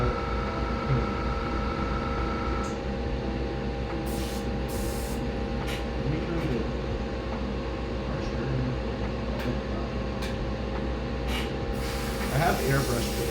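An airbrush sprays paint at about 22 PSI while a scale model car or jet is painted, producing a steady, close hiss that runs continuously beneath a person talking.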